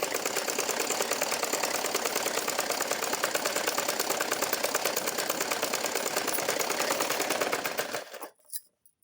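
A sewing machine runs steadily, stitching cloth for a matka-style blouse neck with belt, its fast even whirr close and continuous for about eight seconds before stopping abruptly.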